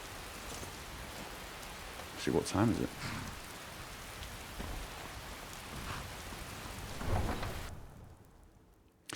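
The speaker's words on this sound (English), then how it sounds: "I would like to get out of the rain for now" Steady rain hisses down in a Skyrim game world while low thunder rumbles twice, and someone talks briefly over the storm.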